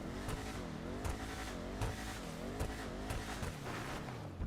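A supercharged 1970 Chevrolet Chevelle Arbiter GT revs in short repeated bursts, its engine pitch rising and falling with each throttle blip, close by and steady with no voices.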